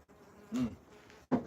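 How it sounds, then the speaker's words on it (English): Bees buzzing outdoors, with two short, close, loud swells of droning hum as insects pass near, separated by quieter background. "there's bees everywhere. And when I came out here earlier, it was like that constant hum"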